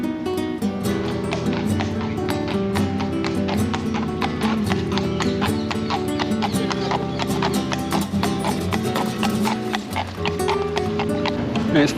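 Horses' hooves clip-clop along a street in Seville in a steady, close, repeated rhythm that runs the whole time, set against a dense bed of background music and voices.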